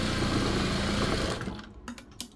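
A sewing machine stitches a blouse hem in a rapid, steady mechanical whir up close, then stops and leaves a few soft handling clicks and rustles.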